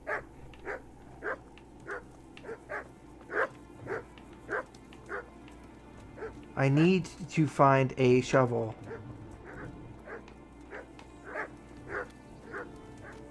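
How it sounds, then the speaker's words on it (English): Dogs in the video game Kingdom Come bark repeatedly at a steady, rhythmic pace, with a louder burst of overlapping yelping in the middle, while someone talks briefly over the game audio. "Those stupid dogs are super annoying."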